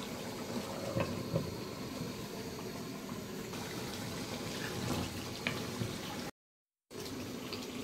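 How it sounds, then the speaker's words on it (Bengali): Rose water is poured into a pot of beef kala bhuna biryani, a soft, steady liquid trickle close by, broken by a brief gap. "এই যে কালা গোলাপ জলটা দিয়ে দিন"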